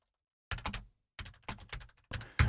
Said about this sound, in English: let's say you're typing text